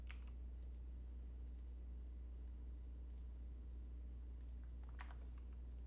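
Computer keyboard keys are pressed while working in KiCad 6.0.4 software, giving a few faint, sparse clicks spread over a steady low hum.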